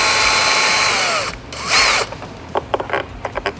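A power driver fitted with a T25 bit whirs steadily, close up, loosening the bolts that hold a Harley-Davidson outer fairing to the inner fairing, then stops and gives way to a few short clicks and knocks.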